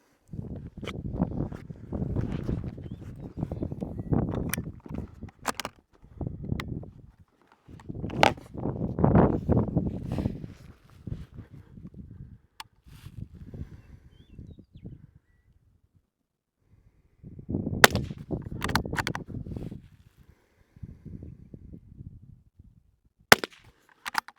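Sharp .22 rifle shots crack out in short bursts during a qualifying target stage, separated by pauses and faint handling noise, with wind rumbling across the microphone throughout.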